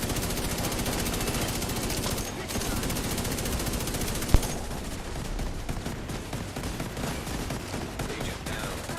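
Automatic gunfire from a shooter in The Division 2 raid, dense and continuous rattling bursts throughout with one sharp louder crack near the middle, under faint voice chat.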